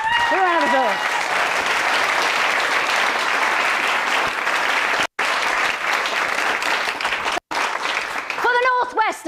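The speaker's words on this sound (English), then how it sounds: "A round of applause" A large audience applauds a performer at a Shakespeare performing grand final, dense and steady clapping filling the hall from start to finish, with a brief voice at the edges.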